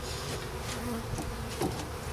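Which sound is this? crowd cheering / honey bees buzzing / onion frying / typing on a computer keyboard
honey bees buzzing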